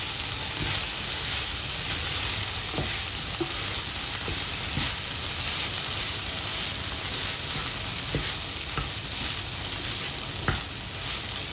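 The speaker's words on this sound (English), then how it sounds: "And then we're going to add the basil. Give it one last stir." Zucchini in tomato sauce with basil being stirred in a hot pan, a steady close sizzle and hiss of frying with occasional soft clicks and scrapes of the spoon, no voices.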